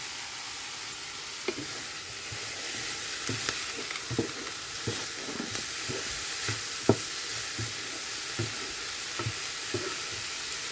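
Prawn curry ingredients fry and sizzle steadily in a pan, with a constant hiss broken by regular soft scrapes and taps of stirring, close and moderately loud with no talking.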